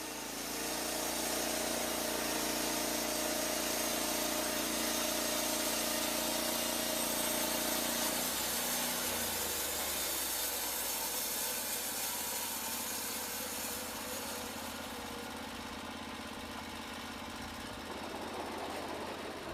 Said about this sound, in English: The Lumber Pro's single-action, multifunction operator's control simultaneously throttles up the engine, engages the clutch, and turns on the water loop.